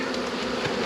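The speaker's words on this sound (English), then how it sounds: "I see bazillions of bees" Honey bees swarm around an open beehive, a dense continuous buzzing hum that fills the space close by, steady and loud with no talk.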